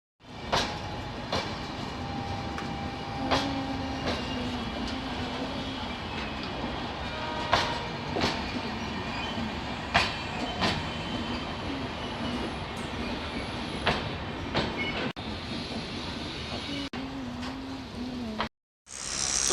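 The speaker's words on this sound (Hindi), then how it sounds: "और अभी हम जो है ट्रेन से चलेंगे" Riding a passenger train bound for Mumbai: a continuous loud rumble inside the carriage, punctuated by rhythmic clacks of the wheels over rail joints and a brief dropout near the end.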